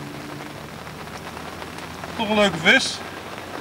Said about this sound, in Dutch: Ik ga maar snel terugzetten, want het regent.